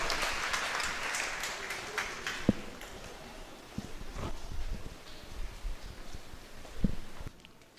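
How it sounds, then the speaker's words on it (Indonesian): Applause at a Sunday service at HKBP Depok church for the Bible readers, a congregation clapping at moderate distance that fades out, with rustling and a few thuds. "tepuk tangan dulu untuk semua pembaca Alkitab"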